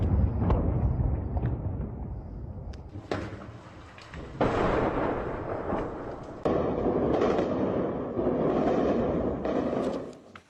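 Artillery fire during street fighting in Bakhmut, Ukraine, heavy booms and rumbling blasts arriving in successive waves, with sustained roaring stretches between sharper impacts and no speech.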